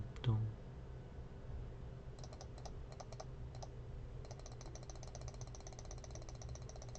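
A mouse and keyboard click and clack in fast bursts during a Plants vs. Zombies any% speedrun, close but soft, over a low steady hum with a faint thump near the start.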